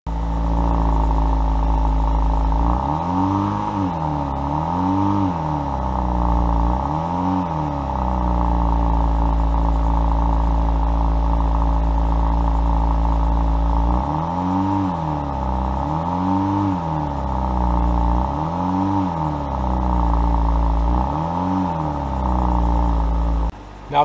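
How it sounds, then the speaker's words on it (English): A 2024 Alfa Romeo Tonale Veloce plug-in hybrid idles steadily through its exhaust, broken by two sets of quick rev blips that rise and fall, heard close with no talking. "let's see what kind of sound we can get from the new Tonale Veloce PHEV."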